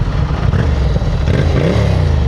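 A yellow Ducati Scrambler 800 with a modified exhaust fires up and settles into a loud, close, throaty idle, a dense rumbling roar that lasts the whole short moment.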